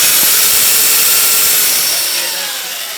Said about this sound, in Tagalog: So now you can drill wood from it.